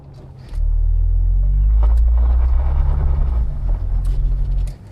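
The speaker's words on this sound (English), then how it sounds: "I'm just wondering if you'll hear the rear wheels squirming on the gravel here." BMW 335i with an N54 engine and an aftermarket limited-slip differential pulls away on gravel. A loud, close engine rumble surges up after half a second and holds steady, with faint crunching tyres mixed into the drone.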